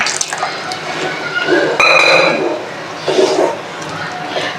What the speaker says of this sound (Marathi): मी थोडं घालते पाणी